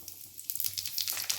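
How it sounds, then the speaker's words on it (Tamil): Cumin, pepper and other spices sizzle and crackle in hot ghee while being tempered for pongal: a steady, hissing fry with close popping spurts and no voices. "பொங்கலுக்கு தேவையான தாளிப்பு பொருட்கள் எப்படின்னா நான் தாளிக்கிறேன்னு பாருங்கள்."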